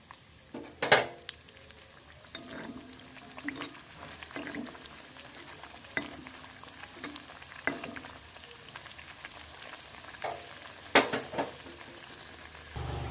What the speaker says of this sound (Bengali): আমার তেলটা গরম হয়ে গেছে এবার ওর মধ্যে আমি কচুরিগুলো দিয়ে দেবো